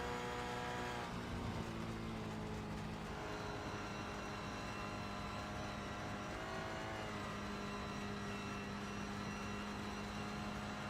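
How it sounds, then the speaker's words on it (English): A race car in iRacing at Spa in the rain spins its wheels as it loses traction through a puddle, a steady loud engine drone with a brief rise in pitch partway through, no voices. "You hear him there, just losing a bit of traction through the puddle"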